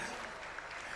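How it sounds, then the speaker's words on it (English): Audience at a symposium on GMO foods applauding a professor, a steady wash of many hands clapping, fairly distant and soft for the whole moment. "Please, another round of applause for Prof."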